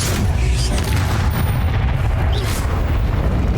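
Confringo explosion spell cast in the video game Hogwarts Legacy: a loud, dense, continuous roar of blasts and rumbling booms that fills the whole stretch without a break.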